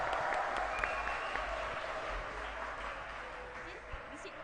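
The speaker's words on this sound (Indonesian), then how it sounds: "Silakan, tepuk tangan dulu." Audience applause during a university student orientation event, a steady moderate wash of clapping throughout with faint voices underneath.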